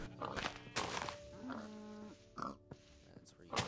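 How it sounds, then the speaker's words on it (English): A Minecraft pig oinks amid game thumps and footsteps, short snorting grunts scattered through a few seconds with some talking mixed in. "Kill this pig."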